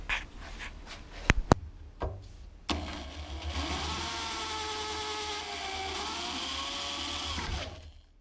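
A power drill bores out the rivets on a Corvette C5 leaf spring: a few sharp clanks and taps come first, then a loud, steady, whining grind runs for about five seconds before stopping.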